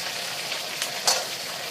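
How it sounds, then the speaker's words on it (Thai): Pork ribs deep-fry in hot oil over fairly high heat, giving a continuous close sizzle with a few brief louder crackles and pops and no voices. "ทอดซี่โครงเนี่ยให้เหลืองกรอบนะคะเอาให้เหลืองกรอบสุกตามที่เราต้องการนะคะ ทอดไปค่ะใช้ไฟแรงนิดหน่อยนะคะ"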